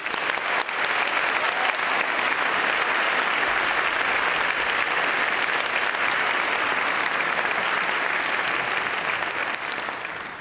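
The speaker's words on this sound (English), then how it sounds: "And now we can have a warm round of applause for Collegiate's class of 24 legacies." Warm, loud applause from the audience at Louisville Collegiate School's graduation ceremony, a thick continuous wash of clapping that holds steady for about ten seconds and tapers slightly at the end.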